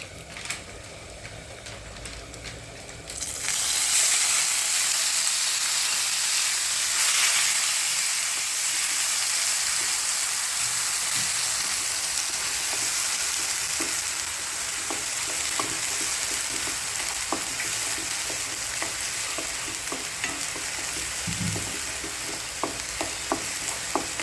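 Onions go into hot oil already holding cumin, bay leaf and asafoetida for a street-style rajma chawal, and a quiet sizzle jumps to a loud, steady frying hiss with occasional stirring clinks.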